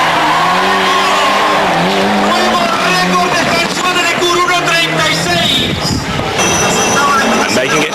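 A Group-A Ford Escort RS Cosworth rally car races on a tarmac stage in Gran Canaria, its engine loud and close with rising and falling revs and some tyre squeal, while a voice talks over it.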